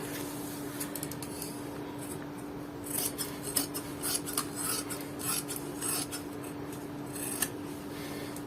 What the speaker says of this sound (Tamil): இப்போ இந்த மேல் பட்டை கட் பண்ணுறேன்